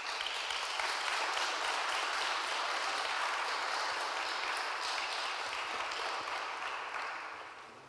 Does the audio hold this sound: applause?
yes